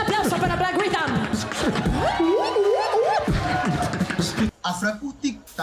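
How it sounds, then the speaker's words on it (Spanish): Applause and cheering from a live audience for Black Rhythm, a dense, loud crowd roar with voices rising over it and a brief dip near the end. "Un aplauso para Black Rhythm."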